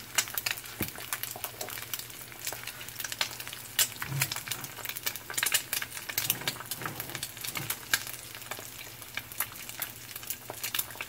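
A plain egg frying in a cast iron pan gives a steady, crackling sizzle with dense popping spatters, close and continuous, with no talk over it.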